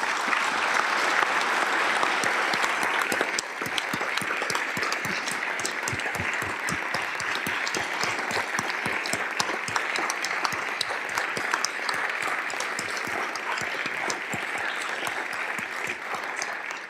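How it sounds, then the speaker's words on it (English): Sustained, dense applause from a large audience at the South Dakota governor's budget address, honoring military service members and veterans as they stand; steady clapping continues unbroken for the whole stretch. "ask you to give them a round of applause"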